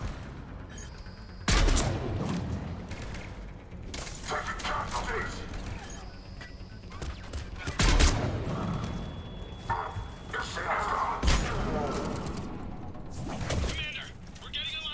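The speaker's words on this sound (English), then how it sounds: "Commander, we're getting a lot of mortar fire" Mortar blasts and bursts of gunfire in the Mass Effect 3 battle hit as a few heavy, loud booms spaced several seconds apart, with scattered shots and mechanical clatter between them while voices talk.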